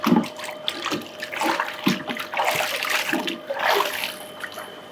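A Kurloo device is dropped straight into water for a water test, giving a sustained splashing, sloshing wash of water over about five seconds, fairly close with no speech.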